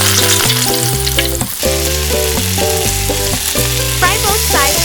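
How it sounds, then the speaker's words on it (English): Fish fries in a pan of plentiful hot cooking oil for a miniature spicy and sour Thai-style dish, a loud close sizzle running throughout over a background of tonal music. "Heat a pan with a large amount of cooking oil. Drop the fish into the pan."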